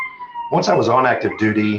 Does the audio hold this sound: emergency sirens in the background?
yes